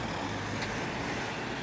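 A BMW car passing at Skeoch Roundabout in Stirling, Scotland, a steady nearby road rush with a brief brighter swell partway through and ongoing traffic noise, no talking.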